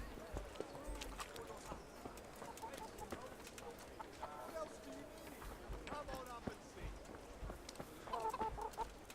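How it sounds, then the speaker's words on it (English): Chickens cluck in the video game Kingdom Come: Deliverance, scattered clucks amid village ambience with clip-clopping hooves and other noises, while a person talks over it. "It's a chicken."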